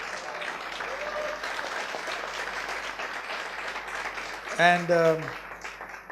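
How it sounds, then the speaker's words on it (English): Audience applause for Sridhar Ranganathan and his team at the SANGAM 2014 event, a steady moderate clapping from a crowd throughout, with a voice speaking over it near the end. "Let's have a loud round of applause."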